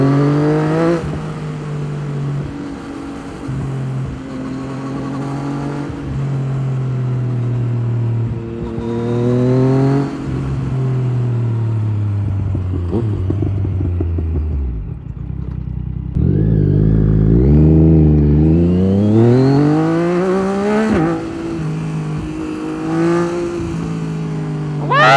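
A Yamaha MT-09 motorcycle engine drones steadily and close up while riding, its pitch rising and falling as it revs through gears, with one deep dip and climb midway.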